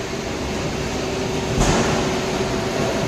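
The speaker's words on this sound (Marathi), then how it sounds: "हे आपली दाना मशीन आहे." A plastic granulator machine runs with its cutter turning, a steady loud industrial drone with one brief louder surge midway and no talk.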